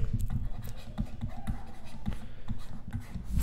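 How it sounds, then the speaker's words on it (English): A pen scratches rapidly across paper while factorisation steps are written out, close and dry, a busy series of short strokes and taps with brief gaps. "let me just write it down"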